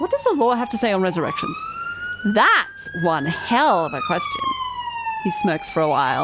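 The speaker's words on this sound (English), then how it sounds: "I'm sorry for the siren, everyone." A siren wails in a long, sustained tone that slowly rises and falls for several seconds, running beneath nearly continuous talking.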